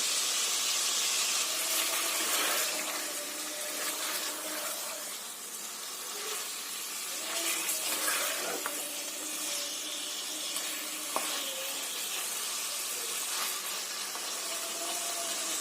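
Garlic and ginger paste sizzling in a pan with chicken for a capsicum chicken curry: a steady, moderately loud hiss that holds through the whole stretch with light crackles and no talking.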